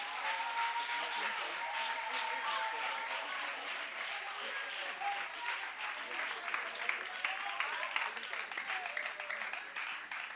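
A church congregation applauds the Lord, sustained dense clapping from many hands filling the room at moderate volume, steady throughout with no break.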